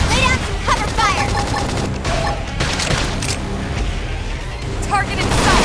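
Gunfire and explosive blasts in a Xenoblade Chronicles X battle, bursts of shots and booms under game voice lines and chirping effects, continuous and loud.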